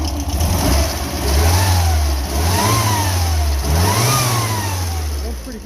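A car engine revs up and falls back several times in rising and falling surges, loud and close, with idling between pushes.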